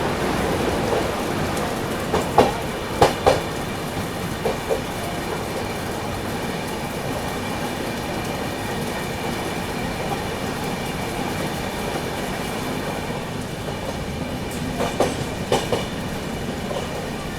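Humsafar Express coach wheels roll along the track with a steady rumbling roar, broken by a few sharp clickety-clack bursts over rail joints near the start and again near the end.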